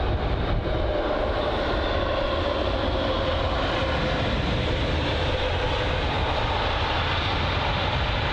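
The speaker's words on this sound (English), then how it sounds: "Really nice landing there from the A350, my favourite aircraft." British Airways Airbus A350 landing at London Heathrow: a loud, continuous, broad jet roar that stays at full strength throughout, with no speech.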